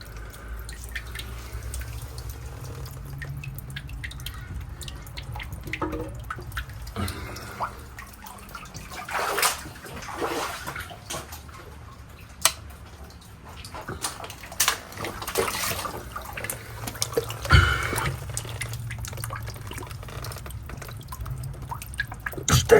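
Water running and dripping through a drain during heavy rain, a steady trickling wash with intermittent drips and splashes, fairly close, without talk.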